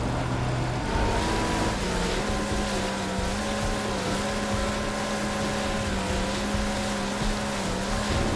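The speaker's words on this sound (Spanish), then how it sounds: "Venga, nos subimos a la moto de agua." A jet ski engine in the video game Far Cry 3 drones continuously, its pitch rising and wavering as it speeds over water, loud and close, with splashing noise underneath and no talk.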